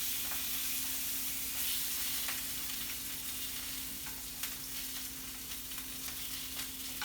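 Sausages for an Italian meatball-and-sausage sauce frying in a pan, a steady close sizzle with faint crackles and small pops running throughout, no talking.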